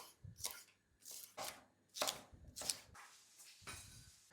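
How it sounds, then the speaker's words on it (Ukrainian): A knife chops a bell pepper into cubes on a cutting board, about eight crisp strokes in an even rhythm, close and clear with no talking. "І нарізаємо таким кубиком, як ми нарізали цибулю."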